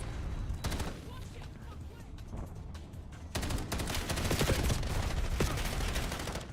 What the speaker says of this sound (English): As I'm shooting him in the feet.